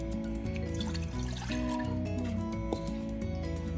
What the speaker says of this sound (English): In this pot, you're going to add the 1 cup of water